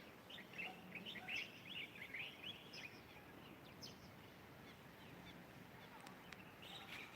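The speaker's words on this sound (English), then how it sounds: "And you can hear nature out too, the birds." Faint birds chirp and tweet in scattered bursts over a low, steady rumble of waves, distant and soft, outdoors in Ghana.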